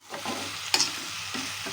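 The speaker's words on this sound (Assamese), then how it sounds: "বহুত টাইম ভাজি এতিয়া মাংসখিনি ৰঙা টাইপ হ'ব" Meat frying in oil in a pan hisses steadily while it is stirred, with one sharper scrape partway through, close and moderately loud.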